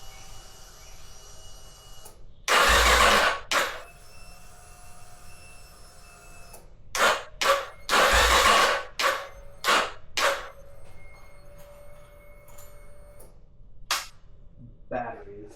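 A Yamaha XT250 motorcycle with a dead battery cranks on its starter in two longer loud bursts and several short stabs, never catching, with quiet pauses between tries.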